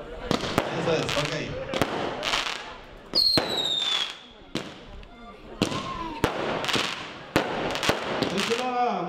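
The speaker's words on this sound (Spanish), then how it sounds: "Muchachos, mire cuántos cohetes aquí." Fireworks rockets going off at a night celebration in Santa Catarina, Nuevo León: a series of sharp, loud bangs at irregular intervals, with one whistling rocket streaking upward, some blasts near and some farther off.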